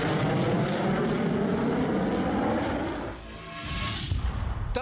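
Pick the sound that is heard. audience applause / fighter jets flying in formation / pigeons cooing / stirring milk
fighter jets flying in formation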